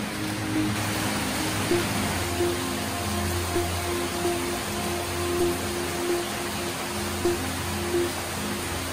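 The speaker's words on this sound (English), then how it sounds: "It's raining heavily" Heavy rain falls on a roof in a dense, steady wash of noise that holds at an even level throughout, with a faint low hum underneath.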